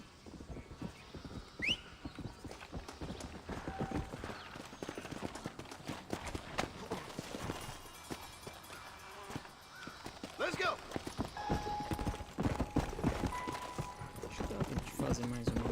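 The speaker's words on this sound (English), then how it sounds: "Olha o meu cavalo." Steady horse hooves clip-clop in Red Dead Redemption on PC, a continuous walking rhythm with a brief whinny, heard under game sounds and someone talking.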